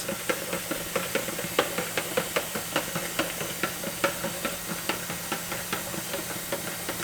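Kool-Aid being stirred as water fills the container: a steady rushing hiss of running water carries a quick, regular series of light knocks and taps from the stirring utensil, close and moderately loud.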